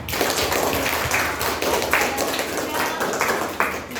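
A class of students claps in a classroom, a dense burst of hand claps that keeps going steadily, with voices mixed in beneath.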